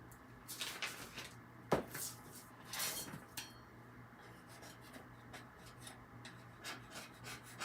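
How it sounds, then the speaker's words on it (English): A small paint scraper scraping across chalk paint, heard as a few short rasping strokes, the sharpest near the start and another burst a second later, close and fairly quiet, with no talking. "Just use a little paint scraper, nothing fancy."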